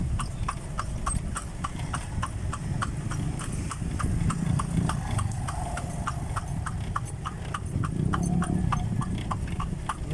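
Hooves of a horse pulling a kalesa carriage clip-clop at a steady trotting rhythm on a highway, close and continuous over a low rolling rumble of wheels and road noise.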